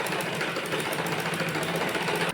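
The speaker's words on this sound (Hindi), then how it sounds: "देखिए सीधे पार्ट की सिलाई करेंगे।" An electric sewing machine runs straight stitching along a blouse panel in one close, steady, fast whirring burst of just over two seconds, ending with a sudden stop.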